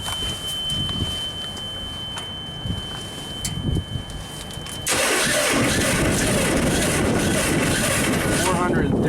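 A starter motor cranks a JLG compact scissor lift engine that cranks slowly and stalls, drawing too much current, with a loud, steady, grinding roar that kicks in halfway through, after quieter background noise and some talking.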